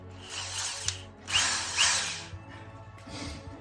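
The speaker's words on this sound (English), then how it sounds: "If you haven't got a drill that you can use with a swizzle stick, just use a spoon" A power drill with a swizzle stick mixing honey whirs in bursts, revving up and easing off several times, close and steady with a faint mechanical rattle underneath.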